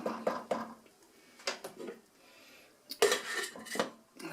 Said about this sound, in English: I'll put the lid back on it.